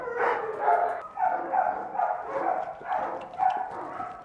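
A dog at an animal shelter barks and yips in a rapid, uneven series of close, fairly loud bursts, with short whimpering notes between them and no talk.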